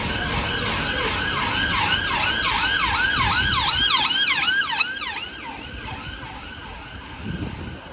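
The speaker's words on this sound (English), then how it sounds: "Their ambulance be loud." A wailing ambulance siren in Brixton, South London, sweeps up and down repeatedly, loud and close, then fades as traffic noise continues.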